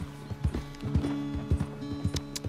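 A horse's hooves clip-clop in a steady walking rhythm in Red Dead Redemption 2, close and distinct, with light tack jingling over a quiet, even background.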